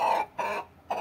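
An Australorp rooster gives a few short, throaty clucks in quick succession, close and fairly loud.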